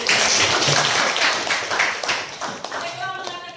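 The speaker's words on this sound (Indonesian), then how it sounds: "tepuk tangan dulu" An audience breaks into applause, with loud, dense clapping that tapers off over a few seconds as voices chatter through it.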